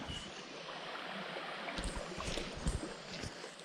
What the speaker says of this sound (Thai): เดี๋ยวเรากางริมลำธารเลย คืนนี้นอนฟังเสียงน้ำไหลจอกๆเนี่ย